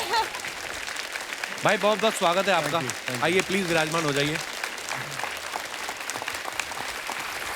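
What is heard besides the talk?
studio audience applause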